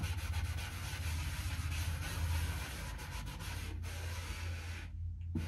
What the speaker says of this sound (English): So let me just erase this so we don't get too confused.